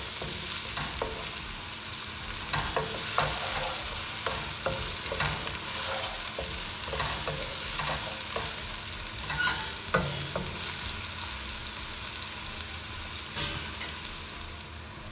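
Onion browns in oil in a pan, giving a steady sizzle broken by repeated scraping stirs, close and even throughout with no voices.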